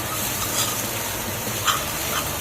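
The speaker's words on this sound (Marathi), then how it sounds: "बारीक गॅस करून चांगलं भाजून घ्यायचं, हे जळलं नाही पाहिजे मिश्रण।" Khoa stuffing for modak roasting on low gas while being stirred, a close, even sizzle with soft scraping strokes throughout.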